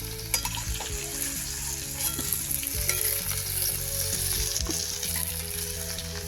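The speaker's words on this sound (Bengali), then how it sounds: "দেখুন এইভাবে লাল লাল করে ভেজে নিচ্ছি আলুগুলো।" Potatoes fry in oil in a pan, giving off a steady, close crackling sizzle with occasional stirring clatter. A soft tonal background runs underneath.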